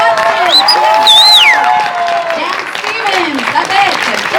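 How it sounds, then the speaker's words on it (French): An audience at the Paris premiere of Beauty and the Beast applauds director Bill Condon, with steady loud clapping, crowd noise and whistle-like cheers rising over the room throughout. "Je vous demande d'applaudir, s'il vous plaît, bien chaleureusement, le réalisateur du film,"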